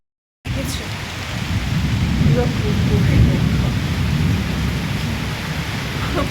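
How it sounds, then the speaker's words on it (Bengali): After a brief silence, heavy rain starts and pours steadily and loudly, with a deep rumbling undertone throughout. "ইস আরও বৃষ্টি হচ্ছে"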